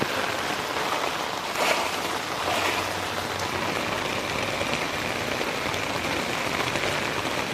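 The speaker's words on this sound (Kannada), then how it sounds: "ಸಖತ್ ಮಳೆ ಬೀಳ್ತಾ ಇದೆ ಗಾಯ್ಸ್." A steady, heavy early-morning downpour in Kolar hisses and patters on surfaces close by, unbroken throughout with no voices.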